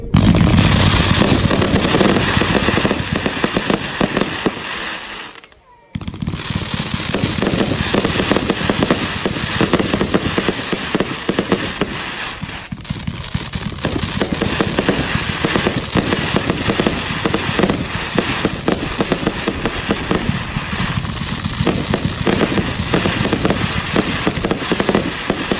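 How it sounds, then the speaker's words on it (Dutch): A Zena Power Crackling Box, a 144-shot firework, fires a dense, loud, continuous barrage of crackling pops. The barrage breaks off briefly near the middle, then resumes with the same sustained intensity, and no voices are heard. "Een hele gave crackling-box is dit, de Zena Power Crackling-box."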